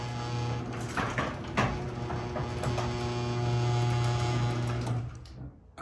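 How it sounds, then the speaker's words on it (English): A residential garage door opens after a universal remote is pressed: a steady motor hum with rattling and sliding runs continuously for about five seconds, then cuts off. "my garage door is opening right now"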